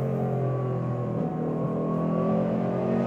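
A supercharged '24 car engine revving hard in third gear, running on 87-octane fuel, with a loud, continuous, strong harmonic roar that holds steady and climbs slightly in pitch.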